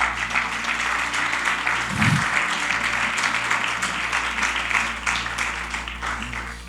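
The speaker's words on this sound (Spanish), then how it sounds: "Dale un aplauso a Dios" Congregation applauding during a church sermon, steady broad clapping that continues for several seconds over a low hum, with a brief thump partway through.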